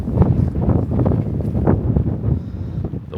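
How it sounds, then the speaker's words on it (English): Strong wind blows outdoors at an abandoned cotton gin on a warm day in Mooresville, buffeting the microphone in a loud, steady low roar with gusty swells. "The wind is blowing today."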